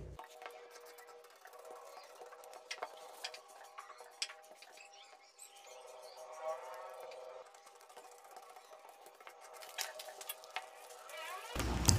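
Scissors cutting a paper blouse pattern produce a run of small, dry snips and clicks at an uneven pace over a steady low hum, fairly quiet and close.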